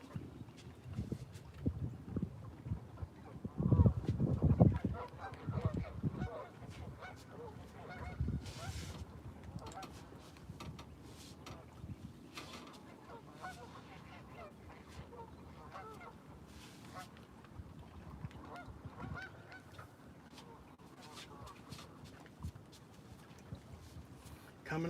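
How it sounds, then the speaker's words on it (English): Geese in a large flock at a pond honk intermittently in the distance, faint and scattered, while someone talks nearby. "Somebody been feeding them geese."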